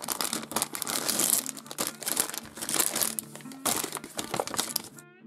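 A large plastic surprise toy packet is crinkled and torn open up close, with continuous dense crackling and rustling that swells and eases over a few seconds, no voices.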